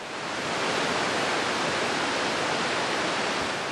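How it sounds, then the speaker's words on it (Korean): Dynjandi, a 60 m cascade of seven falls over stepped cliffs in Iceland's Westfjords, gives a dense, steady roar of falling water, loud and unbroken throughout. "바로 디냔디 폭포입니다."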